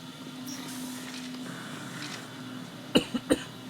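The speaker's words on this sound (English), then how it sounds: "Still a little bit of the cough left." A few short coughs in quick succession near the end, close and fairly quiet, over a faint background hum.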